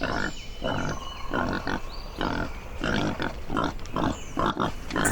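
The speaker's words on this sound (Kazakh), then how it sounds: "Бұл жануардың аты қабан-шошқа" A wild boar grunts repeatedly in rough, throaty bursts, close and loud, with short pauses between the pulsing grunts and no voices.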